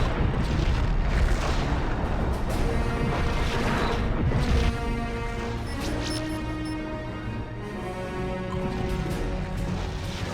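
A Klingon starship blows up in the Star Trek: Legacy space battle game, a heavy rumbling boom and crash that fills the first few seconds, then settles into a long, fading low roar.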